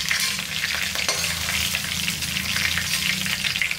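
Chicken pieces fry in hot oil with a loud, dense, steady sizzle that crackles and pops throughout, close up with no voices.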